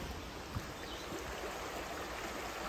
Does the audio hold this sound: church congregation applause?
no